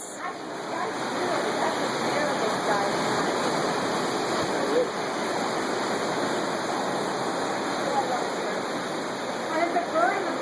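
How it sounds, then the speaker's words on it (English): Waves break on rocks below, a steady, broad wash of rushing surf that stays fairly loud and continuous, with a few faint bird calls and some brief voices nearby. "Are you getting some of the waves on the rocks down there?"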